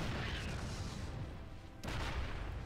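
A siege tank firing in StarCraft 2 makes a dense, continuous barrage of low booming blasts. It dips briefly midway, then resumes at full loudness.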